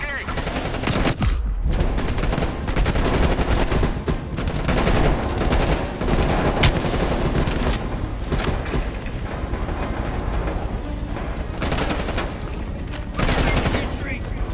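Dense, continuous automatic gunfire and explosions from a helicopter gunship battle in Call of Duty Black Ops Cold War, loud and sustained across the whole stretch with brief dips, over a steady rumbling engine bed.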